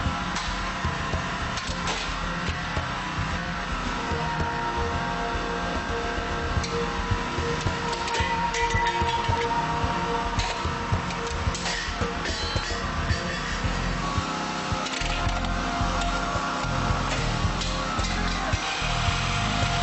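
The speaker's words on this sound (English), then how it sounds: "Here we will cut the boron steel side impact beam from a Volvo S60." A Genesis C231 cutter works through the boron steel side impact beam of a Volvo S60, a dense continuous mechanical drone with rapid ticking and clatter, loud and close throughout.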